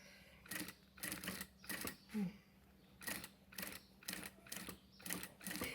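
A sewing machine stitches fabric for a phone charger and earphone holder, running slowly in short regular bursts of quick mechanical clatter separated by brief pauses, close but fairly quiet.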